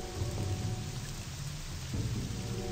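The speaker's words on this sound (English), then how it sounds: "And it's raining." Steady rain with low thunder rumbling in the Morrowind video game, a continuous wash of falling rain at a moderate level with deep rolling rumble underneath, no talking.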